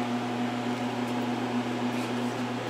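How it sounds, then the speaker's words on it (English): Two Edwards vacuum pumps run steadily with a constant mechanical drone and a strong low tonal hum, an unbroken machine noise throughout with no speech. "2 Edwards pumps,"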